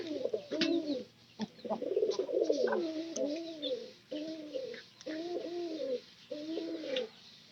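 Pigeons coo in repeated rounded, throaty phrases, several overlapping bouts with short gaps between them, fairly close and steady over a faint background hum, with no talking.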